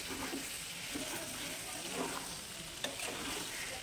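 Beef liver bhuna sizzling steadily in a pan while being stirred, a continuous frying hiss with scattered spoon scrapes and a soft clack near the end, moderately close with no talk.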